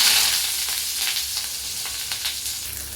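Chopped onions fry in hot oil in a pan while cooking goat brain curry, giving a steady, loud, close sizzle with faint stirring scrapes and no voices.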